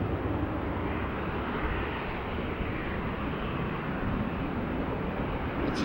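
An airliner taxiing at Schiphol Airport in fog, heard as a steady, broad engine rumble and roar that holds at an even level throughout, with no voices.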